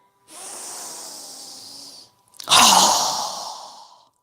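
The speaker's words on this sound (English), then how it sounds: "So go ahead and inhale." Two deep breaths during a guided yoga session: first a long, even inhale lasting about two seconds, then after a brief pause a stronger, breathy exhale that starts loud and slowly fades, close to the microphone.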